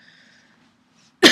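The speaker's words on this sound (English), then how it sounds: "So please, pardon my cough." A single loud, harsh cough bursts out near the end after a stretch of near silence, part of a spoken recitation of The Lorax about smog-filled air.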